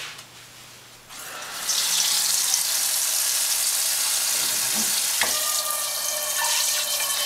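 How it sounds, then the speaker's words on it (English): Tap water gushes steadily into a cooking pot for pasta, a loud continuous splashing rush that starts after a brief quieter trickle and holds to the end, with a small clatter partway through. "you're going to need to begin boiling a pot of water. So you're going to get some water."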